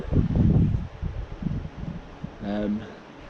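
Wind buffets the microphone in gusty rumbles while bass fishing on the Guernsey shore, loud at first and then easing, with a short voiced sound partway through.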